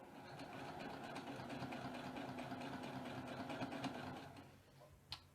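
A sewing machine stitches a quilt strip made of half-square-triangle pieces, running with a steady rapid whir and ticking for several seconds before stopping, then a single sharp click.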